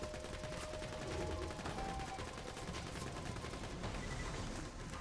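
Rapid gunfire-like bursts and explosions from grenades in Borderlands 2 form a dense, continuous barrage of combat noise at steady loudness, with game voices underneath.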